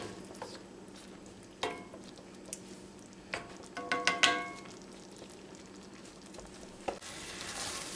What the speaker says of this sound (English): We're going to let that mix in and simmer this a little longer in the cream.